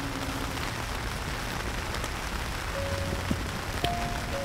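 Rain falls steadily at a campsite on Igiyama Forest camp ground, a broad continuous hiss with a few faint tones and small knocks over it, and no one speaks.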